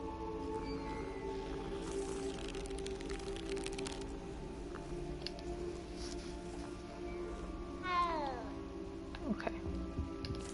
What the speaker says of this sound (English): How many times can I pet the cat?